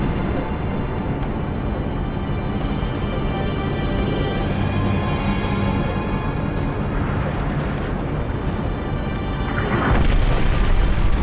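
Orbital defense gun firing in the Halo Reach video game: a continuous loud, deep rumbling boom that swells louder near the end, with no talk.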